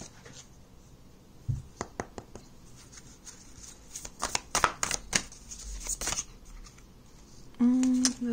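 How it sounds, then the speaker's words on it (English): Close, papery riffling and soft slaps of tarot cards being shuffled in quick bursts, with a brief hum near the end. "Shuffle one more time."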